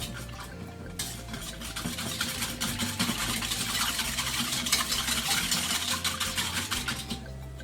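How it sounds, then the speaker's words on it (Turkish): A spoon stirs a mixture of lemon zest, lemon juice and starch for a no-bake lemon cheesecake, giving a continuous close scraping, swishing rhythm with no voices. "1 limon kabuğu rendesi, 1 limon suyu ilave ediyorum ve karıştırıyorum."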